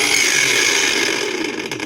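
A SHIDOKU cordless angle grinder runs at its first and lowest of three speeds, a close, steady high motor whine that holds level and tapers a little toward the end.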